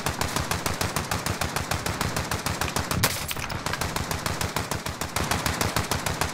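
Rapid automatic gunfire in a video game, a steady stream of loud, evenly spaced shots that keeps up almost without pause, with one brief break in the middle.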